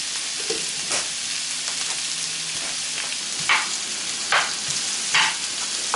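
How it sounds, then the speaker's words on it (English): Bacon and vegetables frying in a pan for a bacon spinach quiche, with a steady soft sizzle and a few brief scraping stirs toward the end, no talking. "You want to stir this quite frequently while you're doing this too. You don't want it to burn. You want it to brown evenly."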